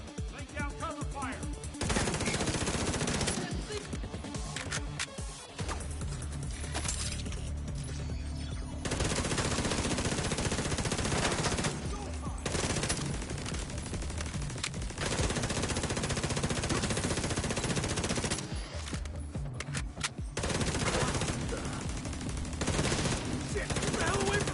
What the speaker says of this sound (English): I'll use the barrier for cover. Lay down cover fire.